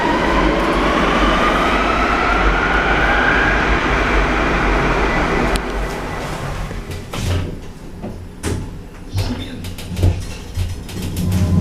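A Line 1 metro train pulls into platform 1 at a Valencia station, a loud rumbling roar with a rising whine that drops off, followed by clunks, clicks and door sounds as it stops.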